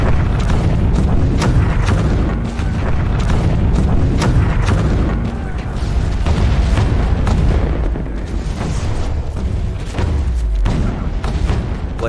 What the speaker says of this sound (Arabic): عاد مدفع أربان للخدمة وانضم لباقي المدافع العثمانية لضرب ودك أسوار المدينة